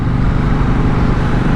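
A KTM Duke 790 motorcycle on a test ride, its engine giving a loud, steady low rumble mixed with wind noise throughout, with no talking.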